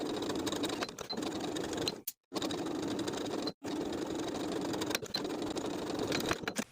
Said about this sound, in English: Sew that bottom hem in place all the way across using your preferred stretch stitch.